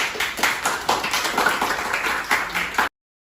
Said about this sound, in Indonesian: Beri aplaus dulu untuk Caira.